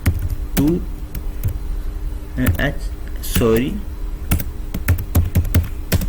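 Keys tapped on a computer keyboard in an indoor room, irregular sharp clicks under a steady hum, with a person talking over the typing.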